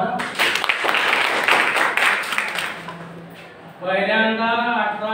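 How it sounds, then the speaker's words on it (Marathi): An audience at a gathering breaks into a burst of hand clapping that swells and fades over a few seconds, followed by a voice speaking. "बरोबर, टाळ्या वाजवा."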